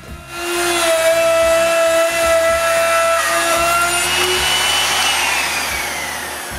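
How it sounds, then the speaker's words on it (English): A router fitted with a pattern bit cuts a hinge mortise template in MDF, a loud, close, high whine that holds steady, then slowly drops in pitch as it winds down. "on a longer piece of MDF, using the master template, I cut the mortise's hinge placement with a pattern bit"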